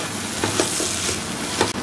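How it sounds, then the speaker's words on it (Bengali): Dried hilsa fish fried with onion, garlic and chili sizzles steadily in a pan, a close, constant hiss with a few soft stirring scrapes. "এবার এটাকে আমি আরও ভেজে নেব"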